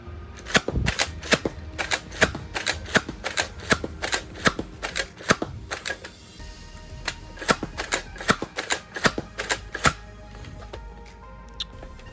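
A Nerf Elite 2.0 Echo blaster is slam-fired with foam darts, giving a long run of sharp snapping shots and mechanical clacks in uneven quick clusters, close and fairly loud, with no voices.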